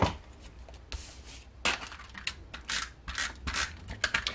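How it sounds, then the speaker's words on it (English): A small paper trimmer slices through cardstock in a series of quick, close, crisp swishes and clicks of the blade sliding along its rail. "I love the little trimmer because you don't have to measure everything."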